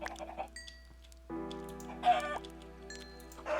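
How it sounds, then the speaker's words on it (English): Minecraft chickens clucking in a pen, several short close clucks and squawks over a low hum, with game music tones in the background. "now I gotta wait for all these little chickens to grow up"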